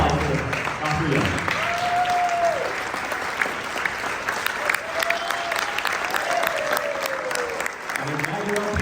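Sustained applause from a crowd at a 50th anniversary celebration honoring Dr. Benjamin Young, steady and loud throughout, with a few faint voices and a whistle rising over the clapping.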